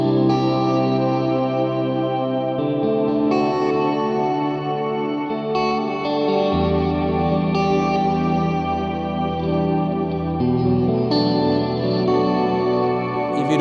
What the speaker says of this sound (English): Now you can hear it with the shimmer.